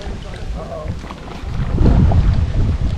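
Strong wind gusts buffet the microphone on a canoe trip along the Little Manatee River, a steady rumbling roar that swells louder partway through, with no talk.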